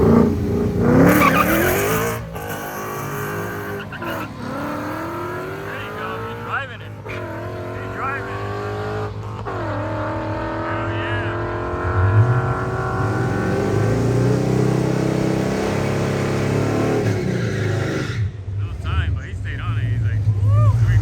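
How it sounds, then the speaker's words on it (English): A car does a burnout at the Orlando Speed World drag strip, its engine revving hard and rising in pitch with squealing tires for a long, loud stretch. "Here we go, Javi, doing the burnout like a pro."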